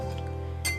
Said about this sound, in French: je vais casser les œufs